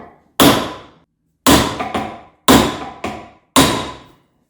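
A fairly heavy hammer strikes a steel punch against a ball joint on a Volkswagen T25, giving four sharp, loud metallic blows at roughly one-second intervals, some followed by a quick lighter rebound tap, with no talking.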